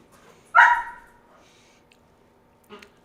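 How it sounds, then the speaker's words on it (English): Puppies at play give one sharp, fairly loud yip-like bark, followed by softer faint whimpers and a brief second yelp, spaced out over near silence. "The puppies are playing in the background."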